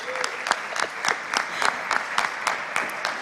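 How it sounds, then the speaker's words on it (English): A conference crowd at a summit stage claps for a speaker, distinct rhythmic claps in a fairly sparse, moderately loud burst with some crowd noise underneath. "a big applause for Federico"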